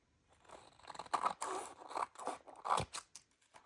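Scissors snip and crunch through a dried, glued gel print in a quiet room, several short close cuts in an irregular rhythm.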